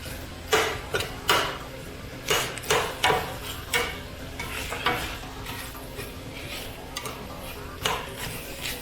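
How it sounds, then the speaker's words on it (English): Bacon fat sizzling in a pot of chili while a utensil stirs and scrapes, giving repeated close clacks and scrapes in an uneven rhythm over a steady frying hiss. "Hopefully we'll render more of this bacon fat off too."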